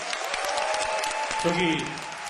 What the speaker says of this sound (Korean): 학습 세미나 발제자들 또 토론자들 다들 이 수고하셨기 때문에 한번 큰 박수 부탁드리겠습니다